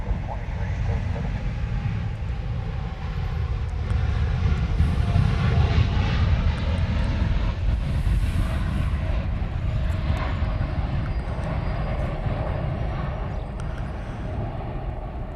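An airliner roars down the Honolulu airport runway on departure, a loud, steady jet rumble that swells slightly midway and holds for the full stretch. A faint radio voice sits beneath it.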